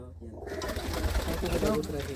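Large old loft pigeon perched up high, cooing in low soft repeated calls under continuous nearby talk, with steady background noise throughout.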